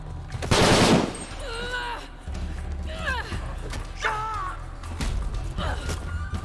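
A rapid burst of automatic gunfire in Shadow of the Tomb Raider, loud and close, lasting about half a second near the start, followed by voices talking over low game ambience.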